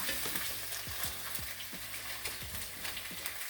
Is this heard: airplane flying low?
no